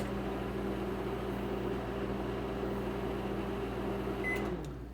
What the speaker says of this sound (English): Never put milk in the microwave, idiot. I know that. It was only for like 10 seconds.